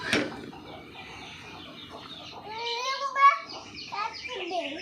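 A chicken clucks in short bursts while people, including a child, talk nearby.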